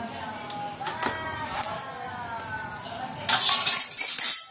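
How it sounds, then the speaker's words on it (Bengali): A metal lid goes over a plate of dhokla batter in a steamer. A few light taps come first, then a loud, close metallic clatter and scrape at the end, with a soft voice in the background. "এবার একটা ঢাকনা এর উপরে দিয়ে চাপা দিয়ে দেবো"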